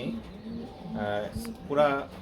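Two throaty coos from caged pigeons, one after the other, close by and fairly loud, with a faint low rumble beneath.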